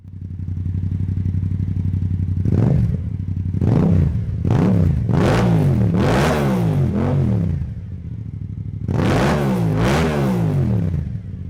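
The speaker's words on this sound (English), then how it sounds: "This means that it will sound similar to what the MT-07 sounds like" A Yamaha MT-07 parallel-twin engine with a 270-degree firing order idles loudly, then revs sharply through a string of quick blips and longer pulls before settling back to a throbbing idle, close and with no talking.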